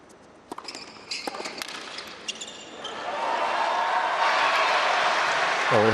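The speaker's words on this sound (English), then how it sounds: "we heard the crowd getting up for Team Poland there" Crowd at a United Cup final tennis doubles match rising for Team Poland: a few sharp ball and court thuds at first, then a swelling roar of cheering and applause that builds and stays loud.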